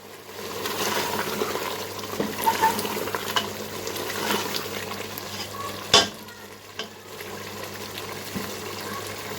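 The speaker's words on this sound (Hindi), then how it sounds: "इन सब चीज़ों को डाल के हमें अच्छी तरह से मिक्स कर लेना है" Garam masala and fenugreek are stirred into beef karahi in a wok, giving a steady sizzle with soft scraping and stirring. A single sharper clank of utensil on metal stands out midway, and no one speaks.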